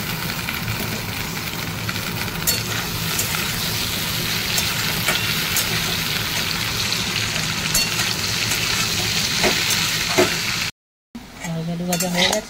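Potatoes and okra with black cumin seeds frying in hot oil in a home kitchen pan, a continuous close sizzle with occasional stirring scrapes, then a brief cut and quieter clinks near the end.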